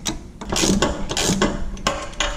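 A ratchet loosens a 21 mm subframe bolt on a 2019 Mustang, giving several quick, close metallic clicking strokes in an uneven rhythm with no talk.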